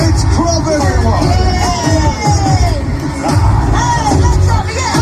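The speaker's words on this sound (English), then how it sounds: "Let's have a cheer for Grog." Audience at a Flamingo Land show cheering and whooping, a loud steady crowd roar with shouts rising over dense babble throughout.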